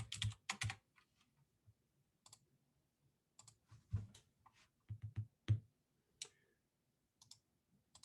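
Keys clatter on a computer keyboard in scattered bursts, quick clusters of close clicks separated by short pauses, fairly quiet with no talking.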